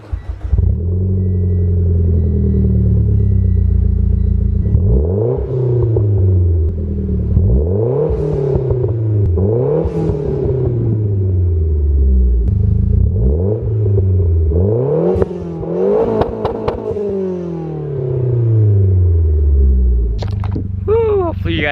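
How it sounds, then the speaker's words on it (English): A Mitsubishi Lancer Ralliart with an axle-back exhaust revs repeatedly, engine note sweeping up and falling back in several loud pulls, with the whoosh of a blow-off valve and a voice talking briefly. "get some revs on the axle back for you guys, and I'm also gonna go ahead and get some whoosh blow off valve noise"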